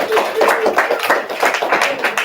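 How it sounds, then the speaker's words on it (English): A class claps after a demonstration, a brief burst of close, uneven hand claps from a small group that runs for a couple of seconds. "Round of applause."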